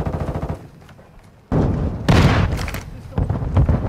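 Call of Duty: Modern Warfare II gunfire, sharp repeated bursts of shots and impacts loud and close, with a lull before heavier firing resumes, layered with in-game callouts.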